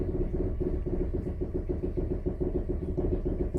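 A houseboat engine running at a fast, rhythmic throb, loud and close, holding an even pitch throughout with no voices.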